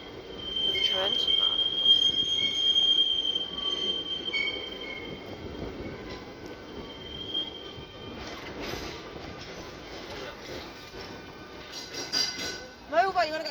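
Beamish Museum's Tram 31 rolls along rail tracks through a recreated 1900s town, its wheels squealing sharply at the start and rumbling steadily throughout, fairly close, with people talking and shouting over it.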